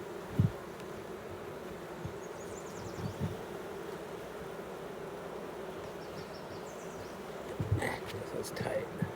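Honeybees fanning in a beehive make a steady, close buzzing hum that persists throughout, with a few brief low thumps and rustles.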